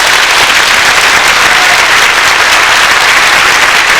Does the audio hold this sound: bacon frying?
no